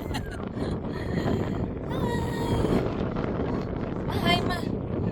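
Strong wind blows outdoors at Saint Kilda, Australia, a loud continuous roar buffeting the microphone while people talk over it throughout.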